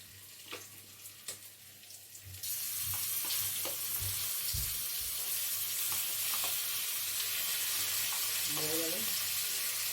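Ground spice paste with green chilli hits hot oil beside sea crab, setting off a sudden loud, steady sizzle that swells and holds, with a few clinks of a spoon before it and no talk.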